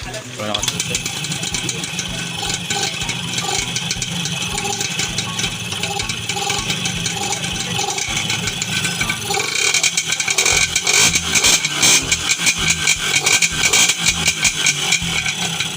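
Motorcycle engine with a freshly tuned carburetor idling loud and close, with rattly mechanical clatter and revs that grow rougher in the second half. Someone talks over it.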